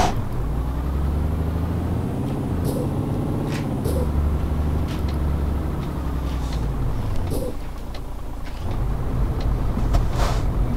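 A truck engine in Euro Truck Simulator 2 drones at high revs, a loud, steady rumble whose pitch rises and dips slightly, with a few faint clicks above it.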